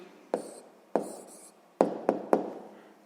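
Pen or marker writing out a math answer, heard as five sharp taps and strokes spaced unevenly across a few seconds, close and fairly quiet with no voice.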